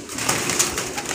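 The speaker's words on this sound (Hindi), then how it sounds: "ये 100 कबूतर आपकी नज़र" A flock of about a hundred pigeons coos in a brief, close burst of soft, overlapping calls.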